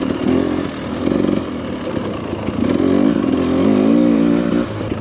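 A 2024 Husqvarna TE300 Pro two-stroke dirt bike engine catches on the electric starter and settles into a loud, buzzy idle with slight throttle blips, close by and alone.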